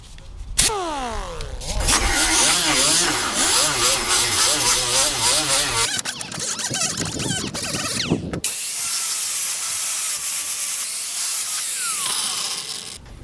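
A 36-grit flap disc grinding on the tin flywheel cover of a Tecumseh 10hp HM100 engine, loud and harsh with sweeping pitch changes, broken by a brief pause and then a rougher, steadier stretch of grinding.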